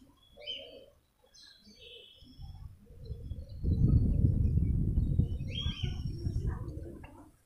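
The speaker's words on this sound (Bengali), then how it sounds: "একটা পায়রা আছে লাল পিলং মাদি, খুবই ভালো মানের পায়রা।" A red pilong female pigeon of fine quality gives a low, throaty coo that swells in the middle and then fades. Sparse, faint chirps from other birds are scattered through the quieter stretches.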